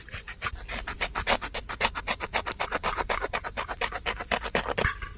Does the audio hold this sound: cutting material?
yes